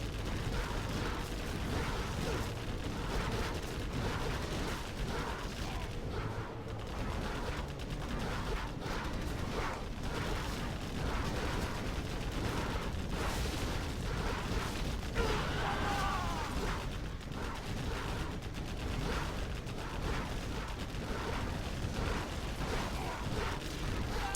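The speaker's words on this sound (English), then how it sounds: "Bombardment's doing its work, certainly." Artillery bombardment in the video game Command & Conquer Generals Zero Hour during a tournament match, a dense, continuous rumble of shelling and explosions with no pauses.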